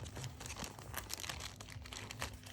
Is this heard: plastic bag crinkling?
yes